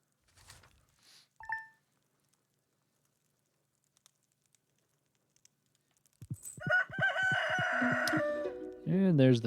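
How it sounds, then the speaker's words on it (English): Phantom rooster in the Stardew Valley video game crows once near the end, a loud clear cock-a-doodle-doo following a few faint chirps and near silence. "And there's the Phantom Rooster that can never be seen."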